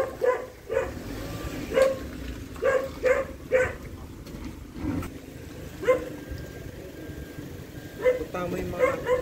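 Dogs bark and yip in short repeated bursts at a moderate distance, scattered across the scene, with people talking nearby.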